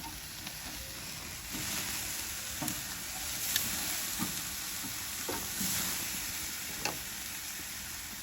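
Fajita meat sizzling steadily over an open fire as pieces are flipped, a constant hiss with occasional soft clacks and pops from the turning, with no talking.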